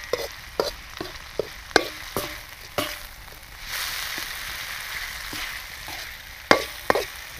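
Chilies and crispy pork stir-fried in a wok for Thai basil pork, with a steady sizzle and repeated sharp scrapes and clanks of a spatula against the pan, loud and close, no talking.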